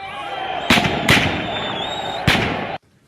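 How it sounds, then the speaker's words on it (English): Three sharp, loud gunshots ring out in city streets over a steady background roar, the shots spaced irregularly before the sound cuts off abruptly. "the streets echoed to the sound of"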